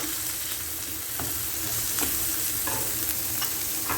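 Bell pepper and onions frying in a pan for a quick tuna paella, a dense close sizzle with occasional stirring scrapes, steady and loud without speech.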